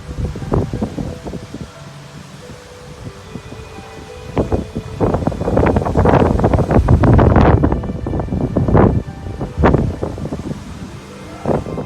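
Strong Oklahoma wind gusts across water where young ducklings swim, a loud rushing roar that swells and buffets the microphone in surges, close and unbroken, with no voices.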